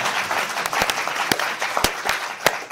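An audience applauds at an evening lecture event, a brief burst of dense, moderately loud clapping with a few sharper claps standing out.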